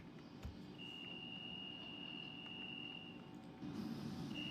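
A door warning on a London Underground Central Line train in the OpenBVE train simulator game: a steady high electronic beep runs for several seconds over a low rumbling train hum, stops, then briefly returns.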